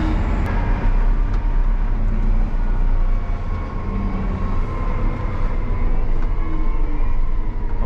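Steady, loud engine drone and rolling road rumble from a John Deere 7R 330 Gen2 tractor with CommandPro driving along a narrow country lane, continuous throughout with no pauses.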